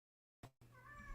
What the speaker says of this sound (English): if you hear that meowing